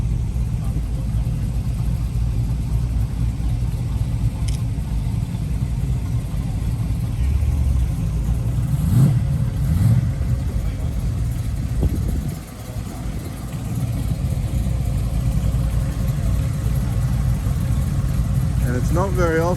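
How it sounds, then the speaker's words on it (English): A hot-rodded Austin fitted with a V8 rumbles nearby at a steady, deep idle that barely varies, with voices talking over the engine. "you see it just coming in the driveway now, an Austin with a V8 motor and hot rodded"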